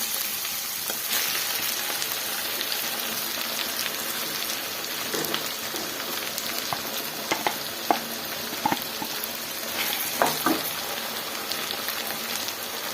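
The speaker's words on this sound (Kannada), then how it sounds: "ಮಸಾಲೆಯಲ್ಲಿ ಒಂದು 2 ನಿಮಿಷ ಫ್ರೈ ಮಾಡ್ಕೊಳ್ಳೋಣ." Finely ground masala sizzles and fries in a pan while a gojju is being cooked, a steady crackling hiss with occasional soft clinks and scrapes of stirring, moderately quiet and without talk.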